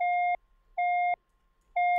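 A Sylenth1 software synthesizer with its filter resonance turned up self-oscillates into a steady, slightly distorted triangle-like tone, heard as three evenly spaced held notes of about a third of a second each, with silent gaps between.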